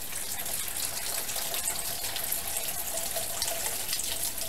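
A steady stream of water pours into a container, a continuous splashing gush that stays even and close for several seconds with no voices.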